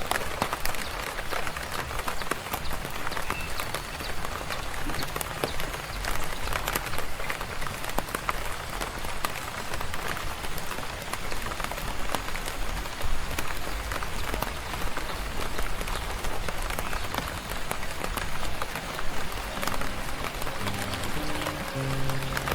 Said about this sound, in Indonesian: Gerimis ini bertahan cukup lama, sekitar 15 menit.